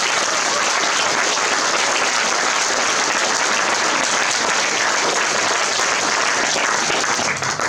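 Steady, loud audience applause at a book tour meeting in Dundee, continuous dense clapping from a large crowd throughout with no break.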